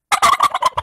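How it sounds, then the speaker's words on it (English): A male turkey gobbles up close, a loud rapid burst of rattling warbling notes lasting under a second. "That's probably a male turkey, then."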